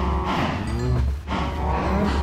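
Cows moo in the Minecraft Divine RPG video game, several long, low, overlapping bellows one after another, loud and close with no talking.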